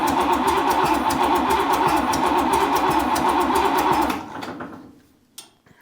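Buick Nailhead V8 in a rail dragster fires up on its first start, roaring loud and steady with a rapid pulsing beat for about four seconds, then cutting out and dying away to near silence with a final clunk.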